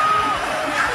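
A large boxing crowd in Houston cheers steadily at ringside after a knockout, a dense continuous roar with whoops and shouts, with commentators talking over it.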